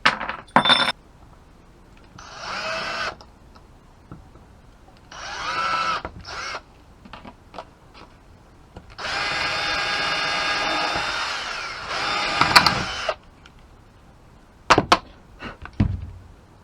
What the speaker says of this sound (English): so I need to pre-drill my holes.